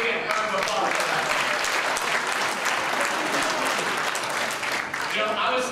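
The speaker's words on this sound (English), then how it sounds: "Give yourself a big round of applause for that." A convention audience gives a sustained round of applause, dense steady clapping filling the room at an even level from start to finish with no talk over it.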